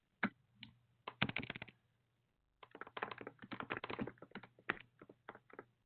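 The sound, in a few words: typing on a keyboard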